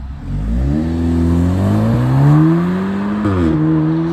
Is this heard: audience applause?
no